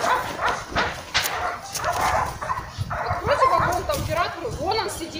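A dog shut in an enclosure barks, yips and whimpers in repeated close bursts, with people talking over it.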